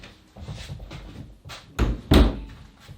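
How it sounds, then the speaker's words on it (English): A door swings shut indoors at home, a near thud followed a moment later by a louder, heavier slam, with quiet rustling beforehand. "I should probably close that door behind me"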